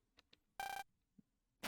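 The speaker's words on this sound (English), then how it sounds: "Phone call." An in-game phone call rings in Mega Man Star Force 2 as a short, quiet electronic burst, with small clicks before it and the start of another ring at the end.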